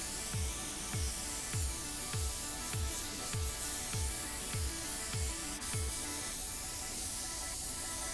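A DeVilbiss DV1 spray gun lays clear coat on a Chevy truck bed in a faint, steady hiss, while a low rhythmic thump repeats about every 0.6 seconds beneath it.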